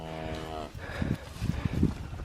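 Cattle low in a field on a hillside wild camp, one long mellow moo at the start followed by deeper grunts and short lows from nearby animals over light outdoor background noise.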